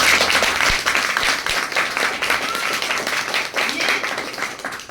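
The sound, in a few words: audience applauding to welcome the meeting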